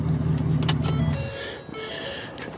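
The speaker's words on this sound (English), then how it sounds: "Cut this freaking truck off so y'all can actually hear what I'm saying." A truck engine idles with a loud, close, humming drone for about a second before shutting off. Quieter mechanical ticks and background noise follow.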